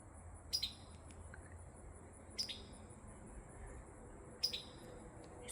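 A small red bird gives three short, high chirps spaced about two seconds apart, fairly faint over a quiet outdoor background with a steady insect hum, at a rural cabin property.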